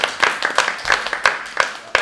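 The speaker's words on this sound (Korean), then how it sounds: "귀한 시간 내주신 코치님에게 박수 부탁드립니다" A small audience claps for a coach after a fitness coaching session, a brief, sparse patter of hand claps with a few sharper individual claps.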